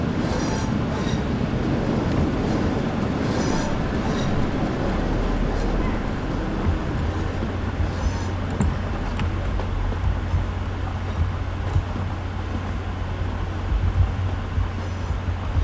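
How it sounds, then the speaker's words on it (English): A train in Train Simulator 2015 rumbles past as a steady, broad roar with faint clicks on top and a low hum building in the second half. "We'll wait for the train to go past."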